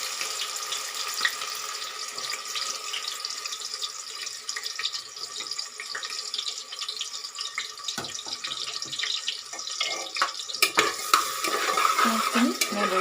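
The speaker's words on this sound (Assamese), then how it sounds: "পিঁয়াজখিনি এনেদৰে ভাজি ল'ব।" Chopped onions frying in reddened oil for a basmati rice pulao give a busy, close sizzle, broken by scraping and clattering strokes as they are stirred in the pan.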